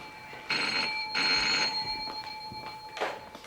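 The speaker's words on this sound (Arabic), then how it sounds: "تليفون علشانك يا حسين." A telephone ringing indoors: two bursts of bright electronic trilling ring with a pause between, then a shorter third burst, fairly close and clear.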